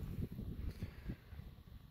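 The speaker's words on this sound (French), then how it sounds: "vous pouvez voir le vent est vraiment très présent." Steady low wind buffeting a microphone outdoors at a fishing pond, a rough continuous rumble with gusty surges and no voices.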